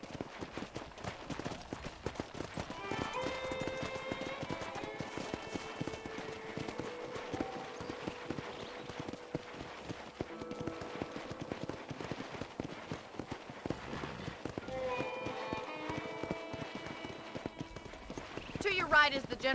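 Horses clip-clop at a steady trot in the Red Dead Redemption video game, hooves beating rhythmically throughout while game characters talk over them and background music plays.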